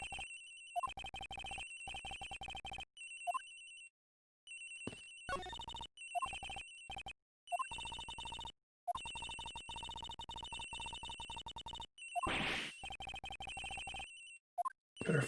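Victim's phone ringing in Ace Attorney Investigations: Miles Edgeworth, a bright electronic ringtone in repeated bursts separated by short silences, with brief game chimes and a short noisy blip in between, no talk.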